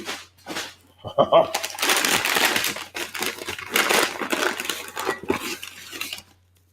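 Packing paper is crumpled and rustled close by while a Lodge 12-inch cast iron pan is unboxed. Loud, crackly bursts of crinkling come in several waves separated by brief pauses.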